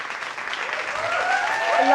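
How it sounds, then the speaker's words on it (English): An audience applauds steadily for a singer-songwriter guest on a TV show, a dense, close wash of clapping that swells slightly, with a voice calling over it. "Let's give him a round of applause."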